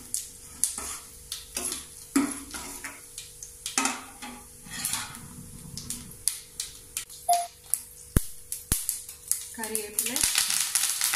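Fenugreek, cumin and fennel seeds crackle and sizzle in hot oil as a metal spoon stirs and clinks against the pan, sharp pops scattered among quieter frying hiss, with brief kitchen clatter throughout.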